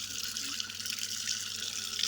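Tap water runs at strong force while hair is rinsed after an arappu wash, a steady close hiss of splashing water with no break.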